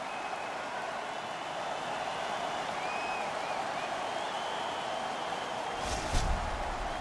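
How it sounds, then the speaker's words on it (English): Simulated arena crowd noise from NHL 22 hockey, a steady faint roar of cheering with a brief louder burst near the end and no clear talk. "And the crowd back alive here inside the stadium"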